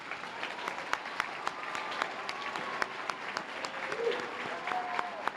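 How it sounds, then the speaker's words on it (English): At a Silver Stars honors ceremony, a crowd gives steady applause with a few sharp, close claps standing out above the softer, continuous clapping of the room. "Let's give all of our Silver Stars another round of applause."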